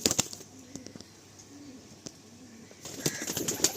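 Pigeons offered as a breeding pair shuffle and flap their wings in sharp bursts nearby, with soft cooing between the flutters.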